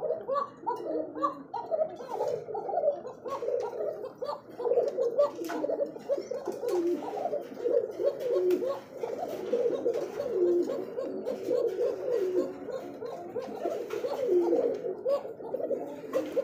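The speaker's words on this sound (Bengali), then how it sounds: "দেখতে পাচ্ছেন চমৎকার একজোড়া কিন্তু আকাশী কালারের মধ্যে রাসগোল্লা কবুতর।" A pair of sky-blue Rasgolla pigeons coo continuously at close range, with soft, throaty, rolling calls repeating in overlapping bursts over faint background noise.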